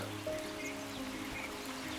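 A rain-swollen stream overflowing its banks near a bathing ghat at Thirumanthamkunnu, Angadipuram, heard as a constant, fairly faint rushing wash of water, with no voices.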